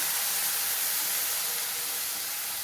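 Water poured into a hot pan of tomato and fresh peas hisses and sizzles steadily, a soft even steam noise with no voices over it.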